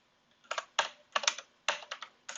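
Typing on a computer keyboard, quick close-up clusters of key clicks in short bursts separated by brief pauses.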